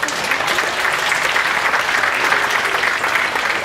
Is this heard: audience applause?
yes